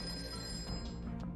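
A telephone rings in a kung fu film scene, its steady electronic ring running the whole moment against a dense, constant background of film sound.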